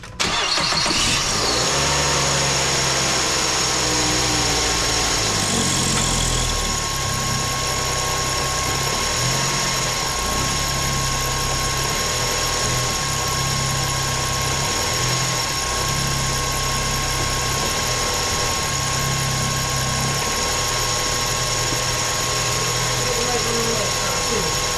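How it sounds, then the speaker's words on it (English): A 2005 Mazda 3 with a damaged transmission pan cranks briefly and starts, then settles into a steady, loud idle with a faint squeal running throughout; someone talks over it at times. "So let's go ahead, start up this engine."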